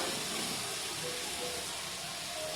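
Tomatoes fry in a pan with salt over a low flame, producing a brief, even, faint hiss that holds steady without a break, with no speech over it.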